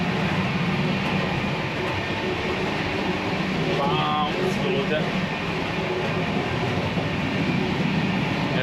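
An Indian train running, heard from inside its toilet: a loud, constant rumbling roar of wheels and carriage noise fills the space, with a brief metallic squeal midway and someone talking over it.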